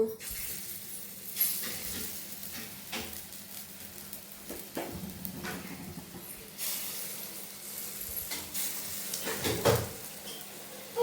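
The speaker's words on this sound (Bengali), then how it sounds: "আগে বড়াটা ভেজে নেব" Potato fritters (bora) fry in hot oil with a low, soft sizzle, broken by light clinks of utensils against the pan.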